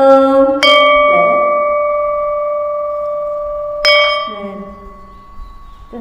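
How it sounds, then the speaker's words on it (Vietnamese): A temple bell is struck twice during a Buddhist precepts ceremony, each hit a bright metallic clang that rings on with a long, steady sustain, with faint chanting or murmuring beneath. "Nghe thầy đánh tiếng chuông to thì các vị lễ"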